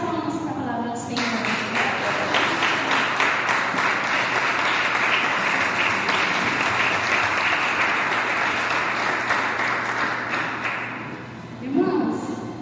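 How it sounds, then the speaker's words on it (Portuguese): A church congregation breaks into sustained, dense clapping during a sermon, loud and steady for about ten seconds before fading; a brief voice or sound rises at the very end. "As palmas para a palavra do Senhor."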